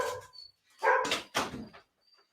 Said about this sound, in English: There will always be dogs that bark in the middle of your life.